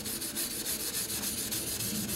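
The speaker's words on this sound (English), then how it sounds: "and just start sanding." Rhythmic back-and-forth rubbing of wet sandpaper on a car headlight lens, close and steady, about eight strokes in quick succession with no talking.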